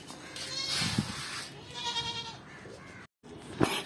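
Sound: goat for sale at livestock market

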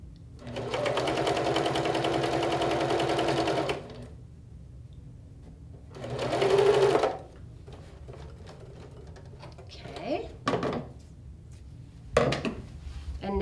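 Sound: sewing machine stitching quilt seams

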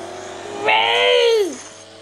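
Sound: car driving in a racing video game

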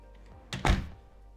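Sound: garage door closing

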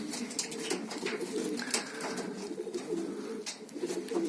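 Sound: pigeons cooing

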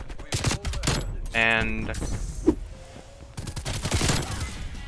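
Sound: RPD machine gun fire in video game Black Ops Cold War

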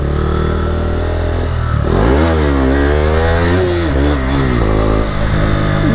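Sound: Yamaha R15 motorcycle engine pulling away

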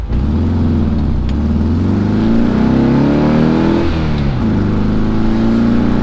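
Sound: VW car engine revving while pulling out in wrong gear

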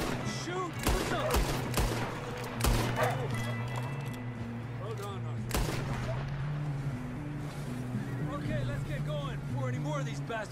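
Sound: gunfire in Red Dead Redemption 2 video game shootout

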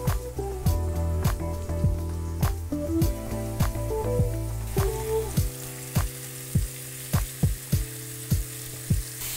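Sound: meat and mushrooms frying in pan

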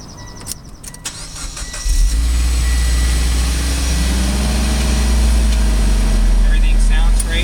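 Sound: 2013 Mitsubishi Lancer Evolution GSR engine starting and idling

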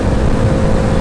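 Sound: Yamaha RX135 motorcycle engine

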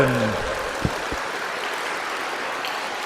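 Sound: applause

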